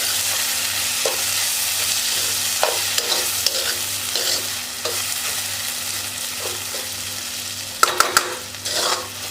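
Vegetables for bankonti curry fry in a pan on a stove, a steady close sizzle broken by repeated scrapes and clatters of stirring, with a sharper cluster of clanks near the end; no one speaks.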